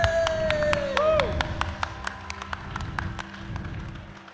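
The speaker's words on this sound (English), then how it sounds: "Big round of applause for Philip" An audience at an award event in Australia claps in sparse, individual hand claps rather than a dense ovation, with a whistle-like cheer at the start, all heard close and moderately loud.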